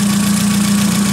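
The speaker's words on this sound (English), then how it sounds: "Engine tick over, idling, whatever you want to call it." A car engine idling, ticking over steadily with a constant low hum and faint mechanical ticking, close and loud, no voices.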